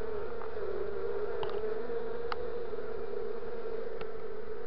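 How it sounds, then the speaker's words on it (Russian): Bees hum in a steady, continuous drone from a small hollow in a linden tree where a swarm with young queens has settled, close and even throughout with a few faint clicks, and no one speaks. "Слышно, там пчелы гудут."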